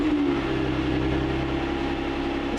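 A Nissan Skyline (Infiniti G35) engine idling with newly installed exhaust parts, a steady, fairly quiet low drone with a slight rumble, continuous and alone without talk.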